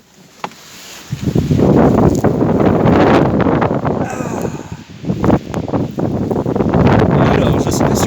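Strong gusts of wind buffet a car, roaring and rumbling against the body and microphone in heavy surges with a brief lull midway.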